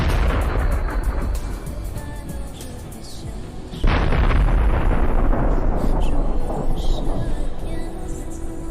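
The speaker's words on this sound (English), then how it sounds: "Once it is hit, the shells for the 125mm gun will ignite and cause a spectacular explosion." A kamikaze drone strike on a Russian tank with a 125mm gun sets off explosions: a rumbling blast, then a second, louder eruption near the midpoint that roars on with crackling bursts.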